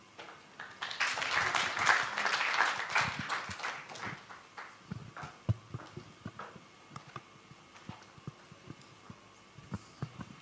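A burst of applause that swells quickly, then thins into scattered claps trailing off over several seconds.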